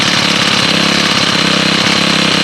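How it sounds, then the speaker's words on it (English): A 2017 Senix 4-cycle grass trimmer's small engine runs steadily, with a loud, close, buzzing drone that holds an even pitch throughout and no voices. "And I'll give it a pull and we'll see how it starts."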